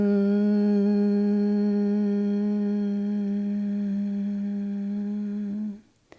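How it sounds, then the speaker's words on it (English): A single sustained Om chanted aloud in meditation practice, one steady, resonant tone held for about six seconds by a lone voice before cutting off at the end. "And Om is the universal sound."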